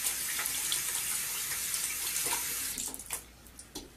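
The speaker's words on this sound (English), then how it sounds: "I fill it up with warm water" Warm water runs steadily from a tap in a public washroom into a peri bottle, a constant close rush that breaks into splashy, uneven pulses near the end as the flow changes.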